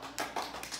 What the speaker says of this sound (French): on l'applaudit, s'il vous plaît, très fort